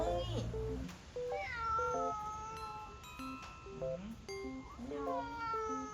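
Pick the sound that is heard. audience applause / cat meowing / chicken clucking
cat meowing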